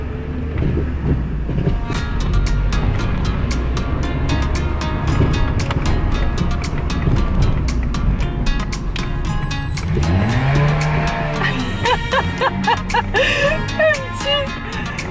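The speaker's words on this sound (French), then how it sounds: "la voiture de Morgane, la première, elle fait énormément de bruit" A loud car engine drones steadily nearby, with clattering and rattling throughout and the pitch shifting as it drives.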